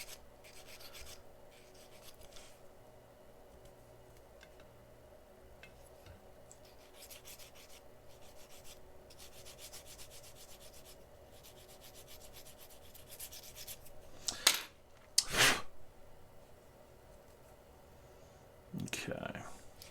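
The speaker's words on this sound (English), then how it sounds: "It's more the top that needs to be sanded." A plastic part from an Aoshima Knight Rider KITT Season One model kit is sanded on its top, giving faint, steady rubbing strokes with a few sharper clicks and knocks near the end.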